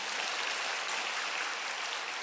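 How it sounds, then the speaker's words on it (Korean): A church congregation claps together for a women's elders' choir at a dawn worship service, with a dense, steady wash of applause that holds at an even level throughout. "이 새벽에 그냥 성령 충만한 찬양으로 하나님께 영광의 박수 올려드립니다"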